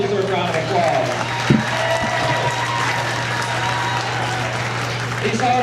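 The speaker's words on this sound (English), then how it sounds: "let's give them another well-deserved round of applause" Steady applause from a crowd for hog show exhibitors in the show ring at a county fair, continuous and moderately loud, with a low constant hum underneath.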